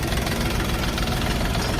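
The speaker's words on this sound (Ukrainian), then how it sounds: "Трактор Булат 244 Pro, сівалочка сошникова" A Bulat 244 Pro tractor engine idles steadily close by, a continuous low rumble with rough knocking texture and vibration throughout, hooked up to an 18-coulter grain seed drill.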